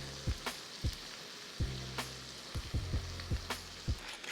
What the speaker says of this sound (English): We're just gonna let that simmer for a couple minutes.